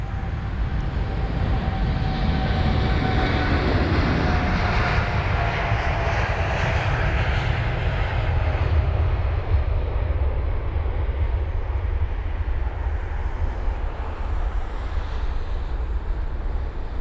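An Airbus A380 departs London Heathrow with a loud, steady jet-engine roar. A whining tone sits on top and fades as the aircraft moves away, while gusty wind rumbles across the microphone the whole time.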